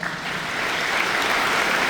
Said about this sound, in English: See, even those people were applauding that.